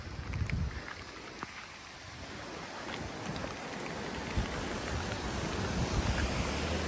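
A continuous broadband roar of rushing water, steady and fairly loud throughout, like a strong flood current, with no voices.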